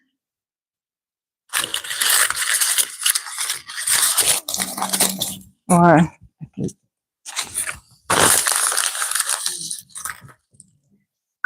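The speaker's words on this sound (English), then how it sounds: "I've crumpled it up." Paper is crumpled up by hand in a run of crinkling, crackling bursts with short pauses, fairly close and loud, and a brief spoken word in the middle.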